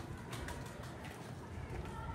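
A pigeon, a racing bird of mixed bloodline, coos softly in a loft, the call faint under constant background hiss and a thin high whine.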